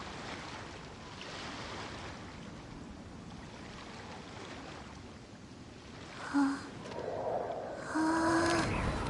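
Calm ocean waves in the video game Genshin Impact, a soft steady wash of surf that stays even and fairly distant, with brief tonal game chimes near the end.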